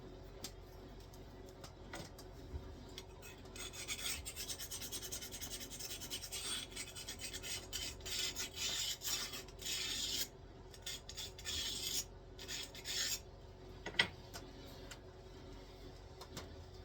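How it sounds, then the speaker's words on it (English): Pressure flaking a stone blade near its narrow tip while flintknapping: faint, close scraping and rasping strokes come in short irregular bursts, with a single sharp click near the end, and no talk. "My flakes get much narrower, and I work with more of a downward pressure than inward pressure."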